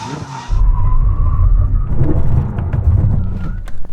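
A Ferrari SF90 XX and a Xiaomi SU7 Ultra brake to an emergency stop from 100 mph. Loud tyre and road roar cuts in abruptly, then rumbles and fades as the car slows.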